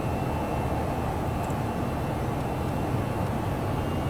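ToLiss A319 jet engines at TOGA thrust in X-Plane 11, a steady, dense low roar with a faint high whine, unchanging and continuous, no talking.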